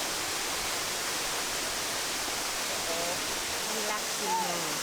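A waterfall in the unspoiled nature of Kerala, India, gives a steady, broad roar of rushing water the whole time, with faint talk rising over it toward the end.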